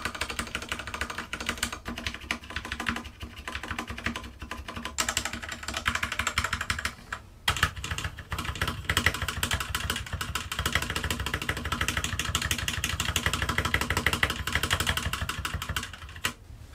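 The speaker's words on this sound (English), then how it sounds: "here's a test of the sound difference between some of the different keys" Keys on a Keychron K2 hot-swappable mechanical Bluetooth keyboard with white backlight are pressed in a rapid, close, continuous clatter of clicks, with a brief pause partway through and no talking.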